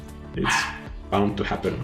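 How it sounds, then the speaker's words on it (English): A dog barks indoors in a couple of short, loud bursts, overlapping a person talking. "Sorry about the barking."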